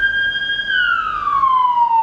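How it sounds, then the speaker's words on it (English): A nearby ambulance siren wails loudly on a street in the Buiucani sector of Chișinău, Moldova, its tone holding and then sliding downward. "constant ambulances all the time, like everywhere"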